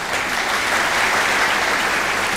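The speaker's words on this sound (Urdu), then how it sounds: "آپ کی بھرپور تالیوں میں" An audience applauds at a Pakistan Air Force Day ceremony, a dense, steady burst of clapping from many hands that stays loud and even throughout with no talk over it.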